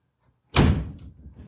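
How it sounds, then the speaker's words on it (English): A door slams shut indoors with a sudden loud, close bang after near silence, followed by a brief fading rattle and low rumble. "You're gonna hear a door slam here in a second."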